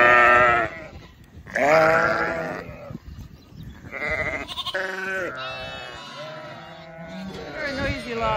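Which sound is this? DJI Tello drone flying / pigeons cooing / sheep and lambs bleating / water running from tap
sheep and lambs bleating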